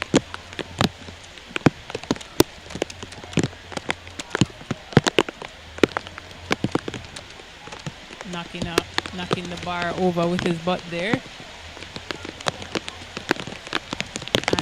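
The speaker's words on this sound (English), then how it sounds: "So we're having another downpour, a heavy downpour" Heavy rain pours down at an outdoor track meet, a dense patter on surfaces with scattered louder drips and knocks, while a commentator talks over it.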